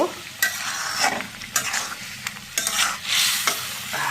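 Dried fish with gourd leaves stirred and frying in a pan, a steady close sizzle broken by repeated scraping strokes of a spoon roughly every half second, with no talking.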